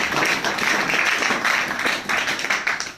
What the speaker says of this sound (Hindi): सबके लिए ताली बजा दो।